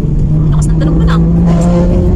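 Loud red car passing by on a highway near Balintawak: a strong engine roar and tire drone, close and loud, with people talking over it.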